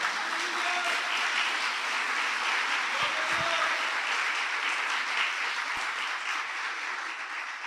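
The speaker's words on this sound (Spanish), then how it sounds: "Denle un aplauso al Señor porque esta es una realidad." A church congregation applauding during a sermon, a full sustained wave of clapping that carries evenly throughout, with faint voices and a couple of low thumps mixed in.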